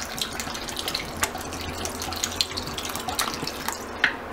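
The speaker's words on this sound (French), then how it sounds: "il faut couvrir généreusement les ingrédients d'eau fraîche" Fresh water pours steadily from a tap over chicken broth ingredients in a pot, a continuous close splashing and trickling with small irregular splats, no voice over it.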